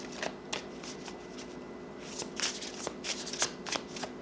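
Tarot cards shuffled and drawn at close range, a quiet run of soft riffling with sharper slaps and flicks as the cards are cut and pulled, no voices.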